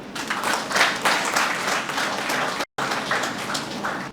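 Audience applause in a college hall at a Rotary Club bank-exam event for students, a dense sustained wash of many hands clapping at steady volume, with one brief dropout before it resumes.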